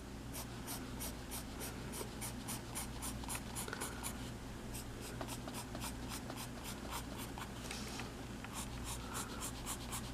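A pencil sketches tropical plants on paper in quick, regular scratchy strokes, close and soft, with a constant low background hum beneath and no talking.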